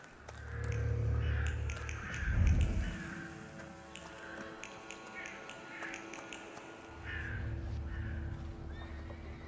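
A horse in The Thaumaturge video game whinnies and snorts in a couple of bursts, with faint hoof clip-clops and quiet voices under it.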